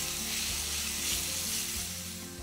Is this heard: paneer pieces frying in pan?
yes